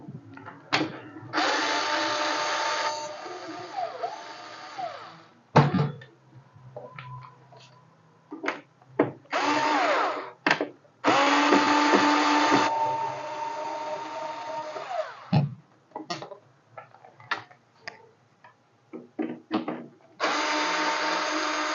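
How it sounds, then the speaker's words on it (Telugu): Power-tool bursts remove screws from an Epson M200 printer during a power supply repair, several whirring runs of a few seconds each with short pauses and clicks between them, close and fairly loud. "సో ఈ 4 స్క్రూలు రిమూవ్ చేద్దాం ఇప్పుడు."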